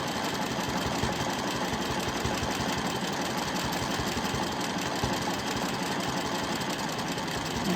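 A sewing machine stitches a quilted mandala with a steady, loud, close whirring hum that runs without a break the whole time, and nobody speaks.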